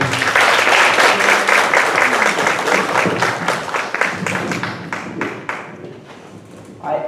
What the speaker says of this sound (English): Let's give a round of applause, everybody.